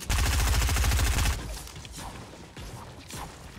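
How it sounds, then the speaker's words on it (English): Rapid automatic gunfire from a heavy assault rifle in Fortnite, a loud dense burst of shots lasting over a second, followed by fainter scattered impacts and game noise. "I'm shooting at him."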